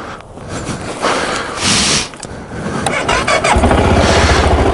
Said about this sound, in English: if an engine can't really spin freely, a lot of times it doesn't quite have enough oomph